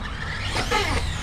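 A Traxxas Slash RC truck drives over long, unmowed grass nearby, its electric motor whining and rising briefly in pitch over a brushy rustle.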